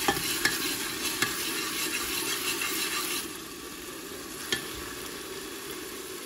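Onions frying in a pan for aloo matar sabzi, a steady crackling sizzle with a few sharp clinks of stirring, loud at first and then easing slightly as the heat settles, with no talk.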